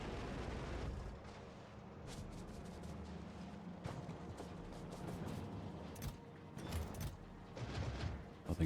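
Turret fire in a Factorio base defense, a dense continuous rattle of rapid shots and bursts with sharper cracks and explosions breaking through, loud and sustained throughout.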